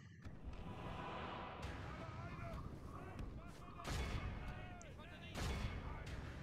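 Battlefield in Third Age Total War, a Middle-earth strategy game with the Elves of Lothlórien marching toward the Misty Mountains, as ranged units fire volleys amid a dense din of combat, with repeated sharp bursts rising over constant low rumble.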